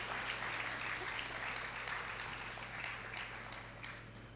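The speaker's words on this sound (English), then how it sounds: "Give him a round of applause, please." An audience at a school graduation ceremony claps steadily, a faint, even patter of hands with a low hum underneath, fading slightly toward the end.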